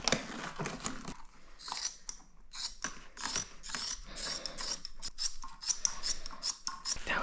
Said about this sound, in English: now I'm just gonna cut around this flashing here before I get it out